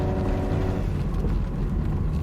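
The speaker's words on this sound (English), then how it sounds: "I'm actually flooring the accelerator pedal." A Hyundai Elantra engine with severe power loss and a transmission that is not shifting, droning loud and steady at full throttle while climbing a hill, heard from inside the car with no talking.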